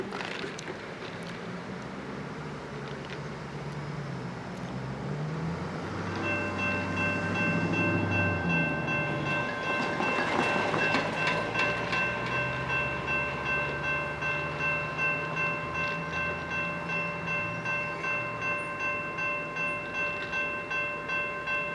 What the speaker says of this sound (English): Probably going to be one of the heaviest trains we'll see today.